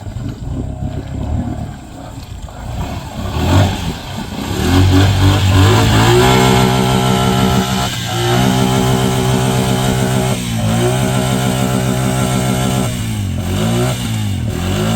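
A Honda Foreman ATV engine revs up loud and close while shifting through the gears on a ride through water, climbing in pitch, dropping briefly at each shift, then pulling again.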